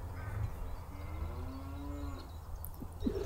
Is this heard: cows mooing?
yes